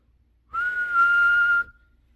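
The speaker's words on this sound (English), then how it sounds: "Can you blow a whistle?" A single steady whistle tone blown for about a second, loud and clear on its own, with no talking around it.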